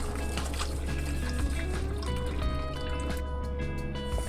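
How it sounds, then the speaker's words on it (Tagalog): Water trickling and filling a bowl for soaking mushrooms in a home kitchen, a steady, soft liquid stream with light splashes under faint background hum. "itong mushroom, babad natin sa tubig"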